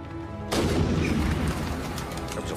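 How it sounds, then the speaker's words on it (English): Gunfire from a .44 Magnum erupts abruptly after a brief quiet moment, a loud, dense blast that leaves a long rumbling wash in a hotel setting. "A 44 Magnum. The son of a bitch has started shooting."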